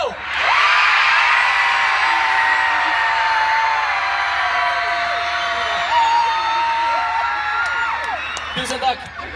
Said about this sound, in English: I want you to scream as loud as possible.